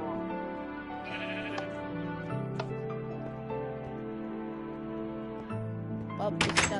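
Blocky farm sheep in the Minecraft video game bleat repeatedly over a steady game music bed, with several short, fairly close calls spread across the stretch and a louder burst near the end.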